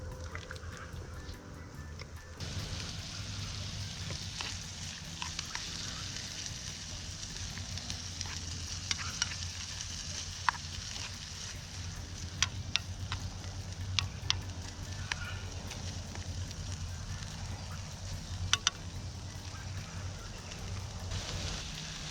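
Eggs frying over a campfire with rocks in the fire pit, a steady close sizzle and crackle of fat with scattered sharp pops and snaps throughout, growing louder after a quieter opening.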